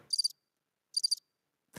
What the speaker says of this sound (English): Now, if I hear crickets, I'm gonna have to call you guys out.